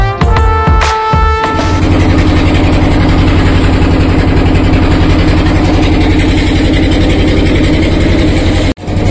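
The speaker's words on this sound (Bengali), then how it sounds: "তো আরেকটা বোট চলে যাচ্ছে, ওনাদের ফিশিং হয়ে গেছে।" A fishing boat's engine drones loud and close at sea as the boat heads back toward port after netting fish, a steady chugging rumble that holds for several seconds before cutting off abruptly near the end.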